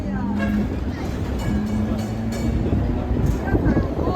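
Rumbling tram noise in Hong Kong with rhythmic clatter and a low hum, heard from on board while voices talk over it.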